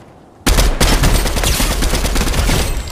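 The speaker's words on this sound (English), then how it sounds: "they're shooting. They're shooting at you" Sudden burst of rapid automatic gunfire in a Fortnite firefight, loud and close, with dense overlapping shots that continue unbroken after a quiet start.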